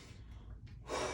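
A single deep breath taken during a stabilizing exercise session: a soft, breathy inhale that swells into a louder, airy exhale near the end, close and alone without talk.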